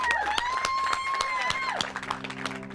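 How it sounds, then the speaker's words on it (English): An audience applauds and cheers at an outdoor neighborhood gathering in New Orleans during a home rebuilding after Hurricane Katrina, with clapping steady throughout and tonal music and voices running underneath. "Round of applause, guys."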